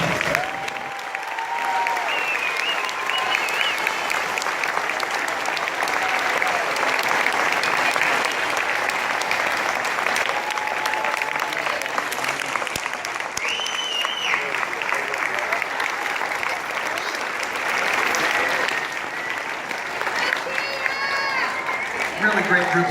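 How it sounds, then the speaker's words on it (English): An audience at a middle school Christmas concert gives a beginning band a long, loud round of applause, dense steady clapping with some cheering and voices mixed in throughout. "Give them another round of applause"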